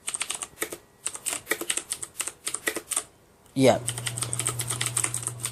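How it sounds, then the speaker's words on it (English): Fast typing on a CM Storm Quickfire Rapid mechanical keyboard makes sharp, clicky keystrokes in quick bursts, then a person briefly speaks over a low hum. "It's really clicky and it's annoying. It sounds like a fucking futuristic keyboard."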